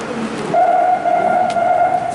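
A metro train in Japan runs with a low rumble, joined after a moment by a steady, loud tonal whine like a motor or brake note that holds to the end.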